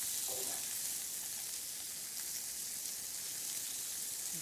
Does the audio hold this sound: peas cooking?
yes